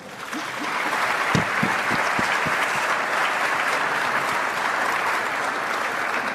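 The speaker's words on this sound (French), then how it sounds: "Je pense qu'elle mérite des applaudissements." A crowd at a Congolese presentation in the USA applauds steadily, a dense wash of clapping that starts with a few distinct claps and quickly swells to full, sustained applause.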